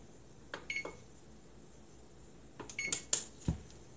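Kitchen oven control beeps as the temperature is set to 350 for a vegan cassava cake, a few short electronic tones and button presses in two clusters over faint room noise.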